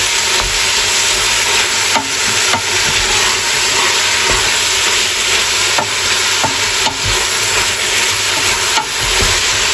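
Meat for chili con carne cooks in a pan over medium-low heat, giving off a steady, loud sizzle with faint scraping from occasional stirring.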